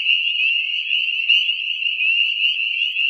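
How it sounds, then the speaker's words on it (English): A spring peeper frog calling from a pond: one continuous, high, piercing trill that holds steady and loud, with no other sounds and no voices. "That one's called the spring peeper."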